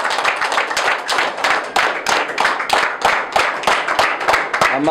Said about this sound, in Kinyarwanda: Amashyi cyane mufasha